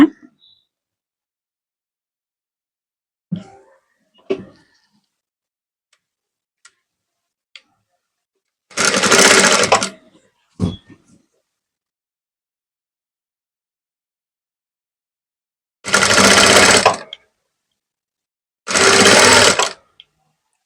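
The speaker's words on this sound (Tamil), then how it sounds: "மார்க் பண்ணனது மேலேயே வச்சு தையல் போட்டுட்டு வரேங்க" A sewing machine stitches a blouse along a marked line in three short, loud bursts of about a second each, separated by silence, handling clicks and small mechanical taps.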